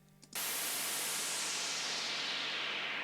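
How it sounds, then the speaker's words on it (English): A white noise sweep from a synth in Logic Pro bursts in after a brief quiet start, a steady, loud hiss that slowly brightens and thins as it sweeps upward. "So that's a white noise sweep."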